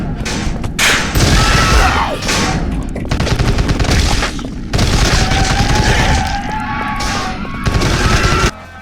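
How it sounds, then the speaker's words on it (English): Gunfire in a zombie shooter video game crackles in dense bursts and volleys, loud and close, with booming hits mixed in. "from sniping your enemies from a distance with a crossbow, or taking out hordes of zombies with a minigun"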